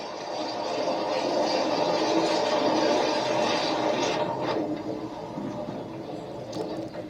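A train rolls steadily over a man lying flat between the rails, a broad sustained rumble and rattle of wagons close by that eases slightly toward the end.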